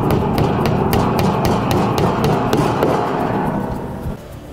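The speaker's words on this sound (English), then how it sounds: "hammer those in." Hammer driving nails into pre-drilled holes while a country cottage space-saver cabinet is assembled: a steady series of sharp, evenly spaced taps, about a dozen, close and loud, then a final heavier thud.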